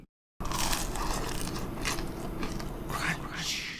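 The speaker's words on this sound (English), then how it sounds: "make you hear the crunch" Deep-fried Hakka chilli chicken pieces, fresh from the oil and drained on paper towel, give a close, crisp crunching and crackling that runs steadily for a few seconds after a brief silence.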